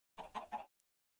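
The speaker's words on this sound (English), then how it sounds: "I put a chicken in a hole with 2 options: the city portal or the mountain portal" A Minecraft chicken gives a quick burst of three clucks, clear and close, followed by a tiny click and then silence.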